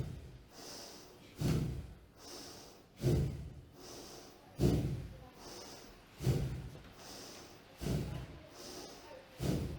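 Forceful rhythmic breathing exercise, each breath pushed out by drawing the belly in: six sharp, loud exhalations spaced evenly about every second and a half, each followed by a softer inhale, with no talking.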